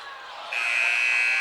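A basketball game's buzzer sounds at halftime as a sharp, steady electronic tone that cuts in abruptly and holds loud over faint arena background noise.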